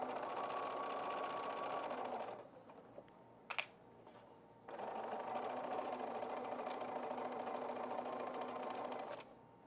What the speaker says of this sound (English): we're just letting the folded edges ride along the flange on our edge stitching foot